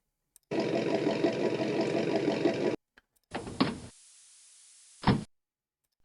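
Engine sound effect from a Beier RC sound module, a steady droning run cutting off abruptly, then after a pause a shorter burst with a sharp shift in tone, mimicking a gear change, followed by a brief final blip.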